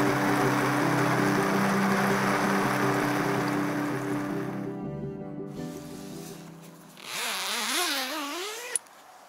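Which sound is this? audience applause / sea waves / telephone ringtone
sea waves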